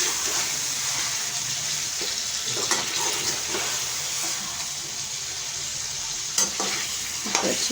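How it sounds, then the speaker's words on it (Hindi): Aloo gosht frying in a pot with green chillies: a constant loud sizzle and hiss, with occasional spoon scrapes as the meat and potatoes are stirred, close up and steady. "तो अच्छे से भून लूँगी"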